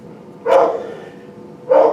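A dog barks in two loud, excited bursts, reacting to someone outside the house, with a short gap between the barks.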